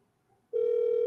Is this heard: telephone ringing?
yes